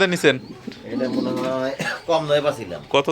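Fancy pigeons, including short face and king breeds, coo at a pigeon farm in Taherpur bazaar, Bagmara, Rajshahi, with close, loud, repeated throaty coos filling the moment.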